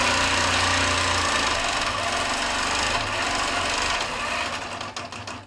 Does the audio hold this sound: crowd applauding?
no